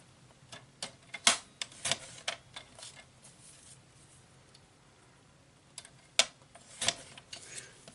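Paper card stock being cut to size for handmade cards, heard as scattered close clicks and sharp snips, loudest in two bursts with a quieter stretch between them.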